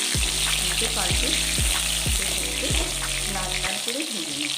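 Pointed gourd fries in hot oil while being turned, a constant bright sizzle with regular low pulsing thumps that stop abruptly near the end, leaving a softer hiss.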